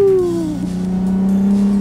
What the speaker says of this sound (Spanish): Con ese petardeo en retención, ¡qué maravilla!